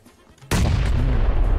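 Two grenades explode in quick succession at close range in a PUBG match, a sudden heavy blast that rolls into a loud, sustained boom after a quiet lead-in.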